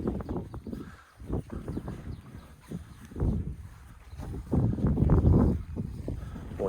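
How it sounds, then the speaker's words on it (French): Gusty outdoor wind buffets the microphone beside a Ford Ranger fitted with an aluminium hard-top camper, a low rumbling roar that swells and fades in uneven surges without any voices. "il y a un peu de vent là"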